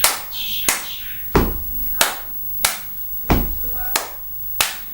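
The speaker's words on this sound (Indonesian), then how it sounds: "T tepuk tangan" Single hand claps ring out at a steady, evenly spaced beat, about eight in five seconds, crisp and close with faint speech-like murmurs between.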